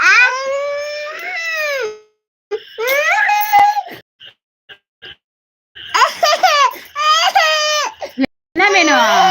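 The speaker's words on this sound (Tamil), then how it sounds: "பாப்பா அழுவ ஆரம்பிச்சு" A baby cries in loud, wailing bursts separated by short silent gaps, with a few soft sniffles and whimpers in between, close to the listener.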